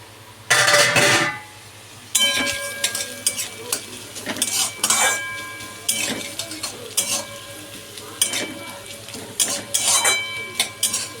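Chicken frying in a pan, opening with a loud clattering burst as the lid is handled, then close spatula scrapes and stirring strokes at irregular intervals over a soft steady sizzle, no talking.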